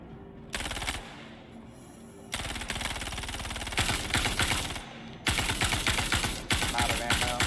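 Rapid automatic gunfire in the video game Star Citizen, long loud bursts of dense rattling shots separated by brief pauses, close and dominant, with no talking over it.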